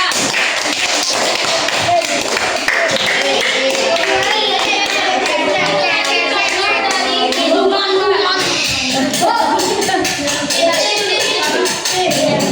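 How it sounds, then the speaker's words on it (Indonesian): Schoolchildren in a classroom clap for a group that has just presented, rapid overlapping hand claps and taps mixed with thumps, shuffling and young voices chattering underneath. "Beri tepuk tangan untuk kelompok 4."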